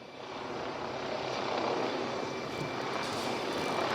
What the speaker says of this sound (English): You can probably hear the helicopters above.